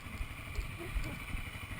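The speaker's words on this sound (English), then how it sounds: "turn the engine off." A supermoto motorcycle engine idling offroad, a low steady rumble with rhythmic knocking pulses, close by and moderately loud.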